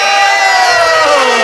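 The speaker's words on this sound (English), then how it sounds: "There was a cheer and a boo." Crowd of audience members at a live comedy podcast show cheering and booing together, a dense sustained roar of mixed voices filling the room at close range.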